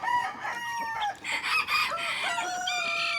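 Backyard hens cluck and squabble close by, a busy overlapping chorus of squawks and cackles with a crow-like call among them, loud and continuous.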